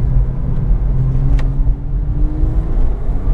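A Porsche 997 Carrera 4S with a manual gearbox, held in second gear, pulls out of a very tight hairpin: a steady, loud engine rumble with a slowly rising tone as it accelerates, no talking.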